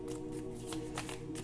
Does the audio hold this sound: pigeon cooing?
no